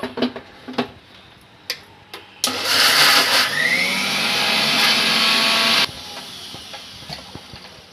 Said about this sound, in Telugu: బెల్లం ముక్క వేసుకున్నాక మిక్సీ చేద్దాము